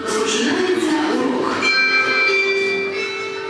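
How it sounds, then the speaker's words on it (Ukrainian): A school bell rings loud and sustained for a class in a makeshift classroom on the ground floor of an apartment building, its bright tone held throughout against a noisy background. "Для кожного класу лунає власний дзвоник"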